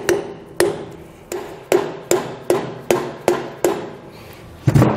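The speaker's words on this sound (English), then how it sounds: "we're going to take a soft hammer. We're just going to kind of tap that into place." A soft hammer taps a trailer hub cap into place on a hub and drum assembly: about eight evenly spaced, sharp knocks close up, each decaying quickly, with a heavier double strike at the end and no talk.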